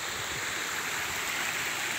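Steady broadband rush of a waterfall and stream pouring into a pool at Değirmenağzı falls near Kozlu, constant and fairly close with no pauses.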